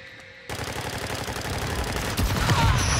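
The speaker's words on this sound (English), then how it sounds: "He was clearly shooting." Sustained rapid gunfire in a shooter game on a new District map, dense overlapping shots starting abruptly after a brief quiet moment and building louder toward the end, with no voices.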